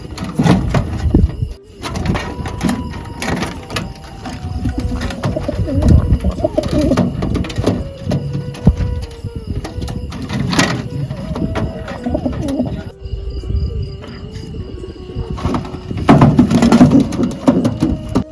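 Pigeons coo repeatedly at close range, soft throaty calls overlapping in a steady stream with some rustling and brief clattering noises.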